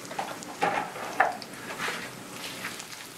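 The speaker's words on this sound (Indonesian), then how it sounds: "Oke, kita tumis bawang bombay." Chopped onion sautés in oil in a pan, giving a soft, steady sizzle punctuated by a few light clicks and scrapes of stirring, quiet and close with no talking.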